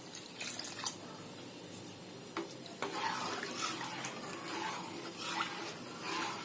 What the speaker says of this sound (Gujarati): આમાં આપણે 2 ગ્લાસ જેટલું પાણી નાખી દઈશું.